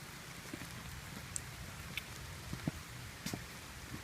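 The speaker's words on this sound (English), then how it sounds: "it's raining" Rain patters steadily on the Seven Bridges Trail in a South Milwaukee park, a soft continuous hiss broken by scattered close drips and taps.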